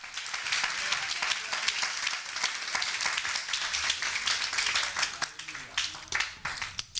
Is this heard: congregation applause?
yes